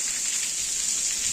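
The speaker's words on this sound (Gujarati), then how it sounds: "તો ધમાકેદાર એન્ટ્રી વરસાદની" Sudden heavy rain pours on a farm, a dense, even hiss of falling water without pauses, close and fairly loud.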